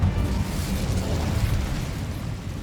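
Incendio fire spell cast in Hogwarts Legacy, a sustained rushing, crackling burst of flame that stays loud and dense throughout, then ends with a sharp pop.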